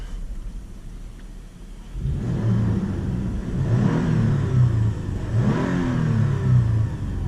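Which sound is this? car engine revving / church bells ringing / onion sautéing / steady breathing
car engine revving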